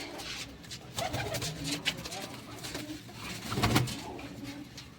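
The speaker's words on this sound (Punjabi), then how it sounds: "ਇਹ ਆਪਣੇ ਵੱਡੇ ਕਬੂਤਰ ਹੈ ਸਾਰੇ ਇੱਧਰ ਵੱਡੇ ਕਬੂਤਰ" Pigeons coo softly in a steady, low murmur, with occasional flutters and faint background voices nearby.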